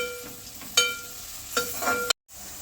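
Spring onion greens frying with fish eggs in a pan, a soft close sizzle with a few sharp stirring clatters, ending in a brief cut to silence before the frying resumes.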